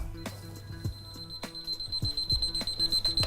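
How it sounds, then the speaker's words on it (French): A kitchen timer rings with rapid repeated electronic beeps, close and insistent, over a faint background hum. "Ah, c'était l'alarme pour les cantucci."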